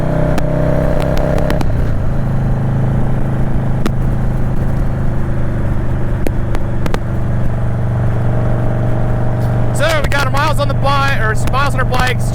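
A Harley-Davidson Dyna Low Rider S rides along with a steady, loud low engine drone and heavy wind rumble. The pitch shifts as it goes up a gear, and a voice briefly talks over the engine near the end.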